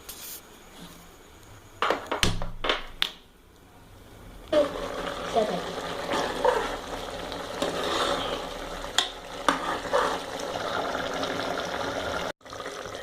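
Chicken curry cooks over a flame in a pan, with an uneven sizzle, stirring scrapes and a few sharp knocks, while a person talks through much of it.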